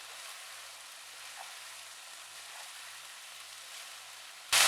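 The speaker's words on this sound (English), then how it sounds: "I'm going to fry the rice" Mushroom pepper fried rice made with cooked basmati rice sizzles and crackles steadily in a hot pan, a soft continuous frying hiss, ending in a brief louder clatter.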